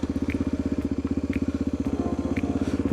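A 2001 Suzuki DRZ250 motorcycle idles nearby with a fast, even, low putter, and a few faint clicks and clatter sound over the steady engine beat.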